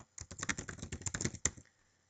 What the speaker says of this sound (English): So I'm just going to go type Burning Ice